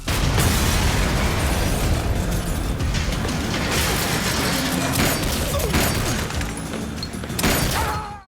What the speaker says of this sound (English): decides that he has a grenade launcher, and he might as well use it